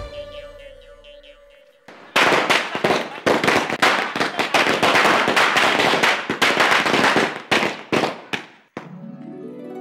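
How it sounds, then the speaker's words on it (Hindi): A long, loud chain of firecrackers goes off during a wedding celebration, crackling in dense, rapid bursts for about seven seconds, with music heard before and after. "क्या हो गया है मेहता साहब को, बिना दिवाली के पटाखे क्यों छोड़ रहे?"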